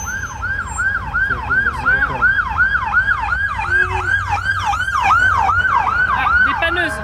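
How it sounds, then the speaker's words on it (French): Loud emergency sirens whoop in a fast repeating rising-falling pattern, close by, with traffic rumble underneath and a second siren layered in. "il y a beaucoup de sirènes"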